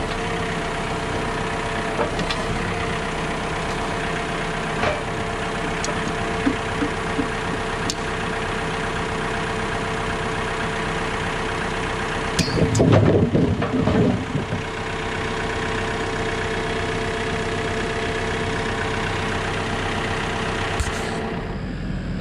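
A tractor engine idles steadily in the open on a farm where fence posts are being set, a constant mid-low drone with a brief louder burst of clatter partway through.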